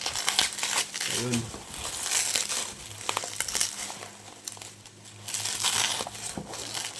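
Plastic blister packaging of a Hot Wheels BMW 2002 double pack crinkles and crackles loudly and steadily as it is opened up close, with a person talking briefly over the rustling.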